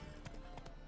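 Horse hooves clattering at a gallop in The Witcher 3, a quick series of muffled clip-clop beats over a low, steady game ambience.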